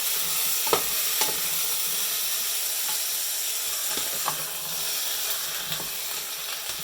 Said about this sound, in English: add the carrots, and fry them until the meat changes colour.